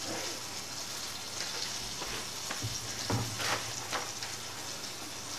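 Chicken of the woods mushrooms deep frying in hot oil, a dense continuous sizzle and crackle with scattered small pops, steady and fairly close, with no voices.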